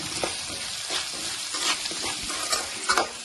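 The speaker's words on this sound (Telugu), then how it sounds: "ఇప్పుడు ఫ్రై చేసుకున్నాము" Salted moringa drumstick pieces frying in a pan, with a constant close sizzle and a few stirring scrapes and clacks, and no voices.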